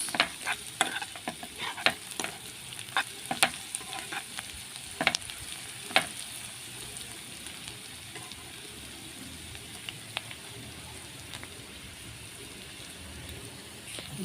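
Chicken gizzards stirred into softened onion and garlic in a hot pan, a steady low sizzle with scraping spoon strokes clustered in the first six seconds, then quieter frying alone.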